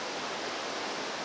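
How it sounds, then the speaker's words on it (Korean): Broad, steady roar of rushing water from the Iguazu waterfalls in the rainforest on the Argentine side, a dense continuous hiss with no voices. "열대우림 속을 한참 동안 걸어가자 경쾌한 물소리가 들린다"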